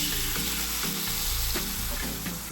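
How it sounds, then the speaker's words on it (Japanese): Water-mixed powdered spices sizzle steadily in hot ghee and oil in a frying pan for chicken kofta, a dense, even crackle with no voices. "温まったらこの水溶きスパイスを加えます"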